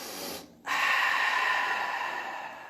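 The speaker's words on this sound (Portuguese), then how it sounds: "nós vamos inspirar e fazer com a respiração como se fosse o som do mar" Slow, audible ocean breath from a yoga-style breathing exercise: a short inhale, a brief pause, then a long, steady, hissing exhale through a constricted throat that sounds like the sea, close and alone.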